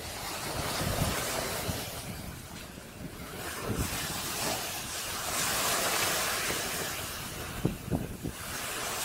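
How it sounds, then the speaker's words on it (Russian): Sea waves breaking and washing onto a beach on the Yucatan coast in Mexico, a continuous roar of surf with wind buffeting the microphone and no voices. "слушайте волны."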